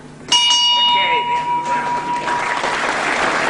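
A boxing round bell rings once with a sharp, bright strike and a long ringing tail, while a match crowd cheers and commentary continues underneath.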